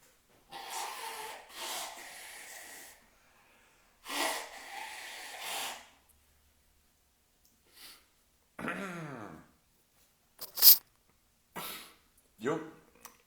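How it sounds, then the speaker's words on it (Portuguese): A person blows their nose several times in a quiet room, with bursts of forceful nasal blowing and snorting, short breaths and a few soft rustles between them. "Vou ter que assoar de novo o nariz."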